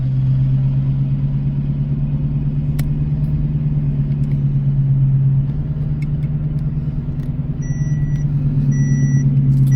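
A turbocharged Holden Monaro idles close by, a loud steady low rumble holding at an even level throughout, with a couple of faint clicks and no speech.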